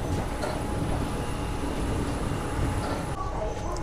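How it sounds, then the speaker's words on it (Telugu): Passenger train 17219 pulling into Bhimavaram Junction, a steady broadband rumble of rolling coaches and rail noise close by, continuous throughout with a slight shift near the end. "సో మన ట్రైన్ వచ్చేసి భీమవరం జంక్షన్కి అయితే రీచ్ అయింది."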